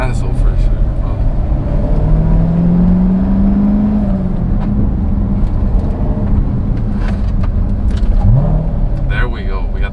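A Corvette C7 with an X-pipe exhaust rumbles loudly at close range, and its engine pitch sweeps up in rev-matched blips around gear changes, with people talking over the exhaust note.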